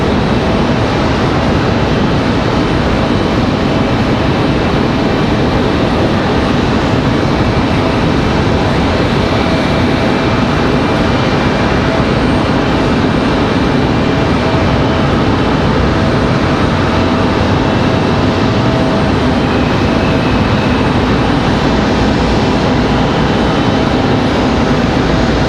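A JetBlue airliner passes at Raleigh-Durham airport, a loud, continuous broadband roar of jet engines that stays steady and near throughout, with no voices.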